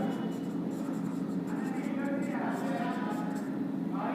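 Pen scratches steadily on paper while accounting entries are noted down, with continuous close scribbling and a faint voice murmuring underneath.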